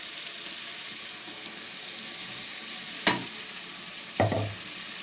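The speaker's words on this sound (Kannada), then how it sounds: "ಹಾಕೊಂಡು ಮಸಾಲೆ ಚೆನ್ನಾಗಿ ಫ್ರೈ ಮಾಡ್ಕೋಬೇಕು." Masala frying in oil for mutton sambar, a steady close sizzle with two brief louder stirring scrapes near the end; no talking.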